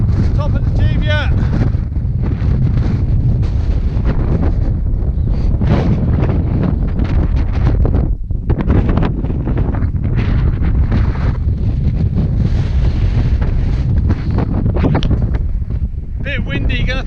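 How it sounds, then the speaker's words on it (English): Strong gusting wind on the summit of the Cheviot hill buffets the microphone continuously, a loud roaring rumble with only a brief dip, and a voice speaks faintly beneath it. "Bit windy"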